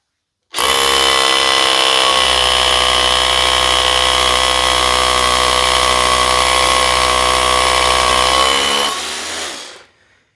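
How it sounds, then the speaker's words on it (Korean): A Makita 36V SDS rotary hammer fitted with a 13mm bit drills loudly and steadily for about eight seconds at close range, then winds down as the trigger is released. "36V 제품에 똑같이 맨 13mm SDS 길이를 장착을 했고요."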